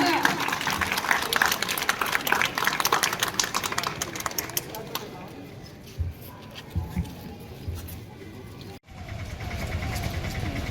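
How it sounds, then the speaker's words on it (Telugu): A group gives a guest a round of applause, brisk clapping at first that thins out and fades to scattered sounds and a quiet room, with a sharp knock near the end. "Come on guys, claps for sir."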